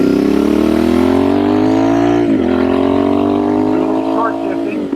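A Royal Enfield Bear 650 motorcycle with a shotgun exhaust pipe runs loud and close, a deep steady engine drone that rises through a gear, dips at a short shift, then climbs again.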